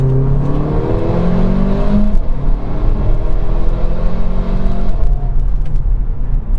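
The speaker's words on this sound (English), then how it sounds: "when you're downshifting with the DCT, you get some subtle overrun and a little bit of popcorn" A Mercedes-AMG car's exhaust through dual-clutch gearshifts, with loud close engine tones stepping down across several shifts under deceleration and a faint crackle of overrun pops.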